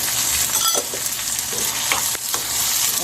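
Onions and tomatoes sauté in a pan for a prawn dish, a steady close sizzle with a few scraping stirs and no talk.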